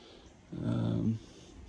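A bloodhound on a homestead gives a low, brief growl that rises into a whiny whimper, about half a second of sound, faint and close against a quiet background.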